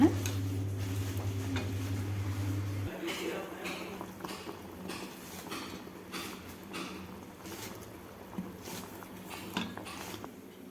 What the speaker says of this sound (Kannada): ಈ ಚಂದ ಸಾರು ಫುಲ್ ಚಂದಂಗೆ ಕುದಿಸ್ಕೋಬೇಕು